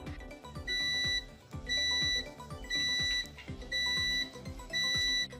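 A 5-pin electronic buzzer sounds a steady, repeating pattern of short beeps, roughly one per second, each a clean high tone heard up close with nothing else in the background.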